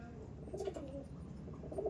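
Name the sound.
pigeons cooing, Lal Jiriya pigeons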